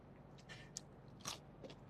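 Crisp bites and crunches into a raw carrot dipped in green goddess dressing, several short snaps close to the mic with quiet chewing between, no talking.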